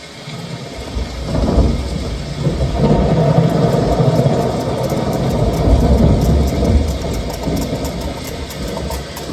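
Thunder rumbling with heavy rain as a sound effect in the light and sound show at Amer Fort, Jaipur, a loud continuous deep roar swelling after a quiet start and sustained throughout, with no speech.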